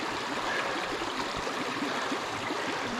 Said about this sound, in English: there's a beautiful brook there, coming out of a wetlands that leads all the way back to Grout Pond